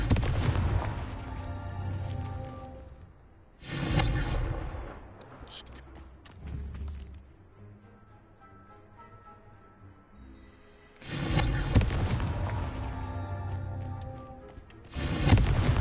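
Loud booming blasts from the Confringo blasting spell in the video game Hogwarts Legacy, two heavy bursts early on and two more later, separated by a quieter stretch of game ambience, with no speech.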